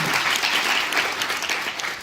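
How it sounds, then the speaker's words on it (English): An audience breaks into applause for a film institute class, a dense continuous clapping that holds at full strength for about two seconds, close and loud, with no speech over it. "Give yourselves a round of applause."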